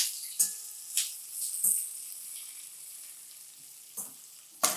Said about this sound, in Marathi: आता यामध्ये हा उभा चिरलेला कांदा घालूया आणि कांदा हलकासा परतून घ्यायचा.